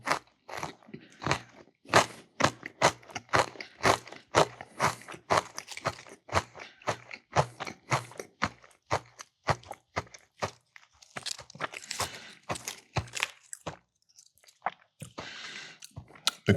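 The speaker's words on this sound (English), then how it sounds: "The crunch of the Cheez-Its" Close, loud crunching and biting of oven-crisped Cheez-It crackers during a cheesy picnic plate meal, a steady run of sharp crunches with brief pauses and a few softer chews, no talking.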